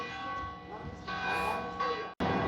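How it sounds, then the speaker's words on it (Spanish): Church bells ring from a church seen in the distance near the castle of Torija in Spain, sustained resonant tones heard outdoors while a person talks over them. "Llegamos justo al sonido de las campanas de la iglesia que se ve por allá"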